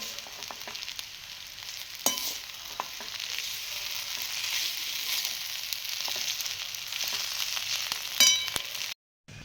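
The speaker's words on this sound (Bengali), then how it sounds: "এবার আমি দিয়ে দেবো টমেটো সস এবার আমি ভালো করে নেড়ে নেব" Pasta in tomato sauce gets stirred on a miniature gas stove: a steady sizzle runs throughout, with occasional light scrapes and clinks of a small utensil, then cuts out abruptly near the end.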